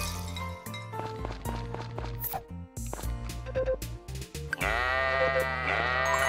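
Sheep bleat in the farming video game Story of Seasons: Friends of Mineral Town, several short, close bleats in quick succession mixed with light clinks and thunks from the game.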